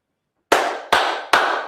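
Three sharp hand claps to sync a recording, evenly spaced and close, each with a short ringing decay, following a moment of silence.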